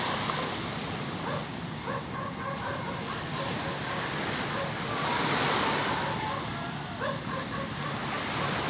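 High-tide ocean waves washing onto a rocky coastline, a continuous broad roar of surf with gusty wind noise, swelling slightly midway; a dog barks faintly in the distance.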